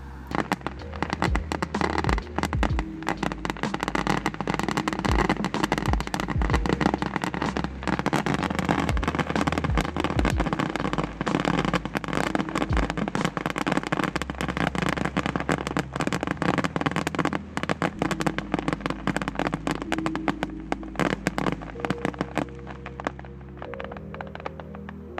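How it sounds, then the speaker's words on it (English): Fireworks explode in a dense, continuous stream of crackles, pops and bangs that stays loud and busy for about twenty-five seconds without a break. "you shouldn't record fireworks because you're never going to end up rewatching the video"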